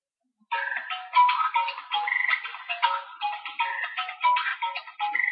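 Frog croaking ringtone plays alone, a rapid chain of bright, warbling croaks repeating in a steady pulsing rhythm, clear and close with silence around it.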